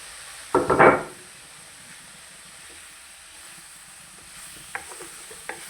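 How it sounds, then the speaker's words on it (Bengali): Spicy chicken and masala are stirred and sautéed in a pan on a gas stove: one loud, brief scraping stir near the start, then a faint low sizzle with a few small clicks. "ভালো করে কষিয়ে রান্না করতেছি ঝাল ঝাল দিয়ে।"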